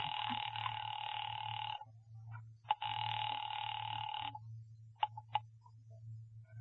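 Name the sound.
telephone ringing in a radio drama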